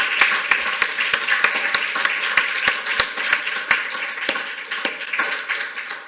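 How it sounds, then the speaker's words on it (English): Warm audience applause for a professor at a university inaugural lecture, steady dense clapping with crisp individual claps standing out, sustained and fairly close throughout with no talking. "join me in a warm round of applause"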